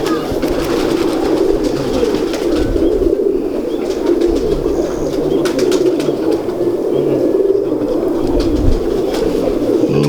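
Several pigeons coo in low, throaty, repeating calls close by, with faint rustling and occasional bits of background voices.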